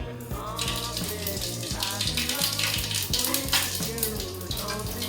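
Mustard seeds and cumin sizzle in hot oil with a steady crackling hiss, and someone talks over the frying throughout.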